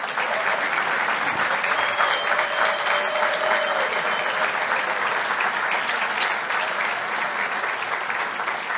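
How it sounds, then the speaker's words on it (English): Sustained applause from a large audience at a leadership conference, dense continuous clapping at a steady level throughout. "Give these ladies a round of applause."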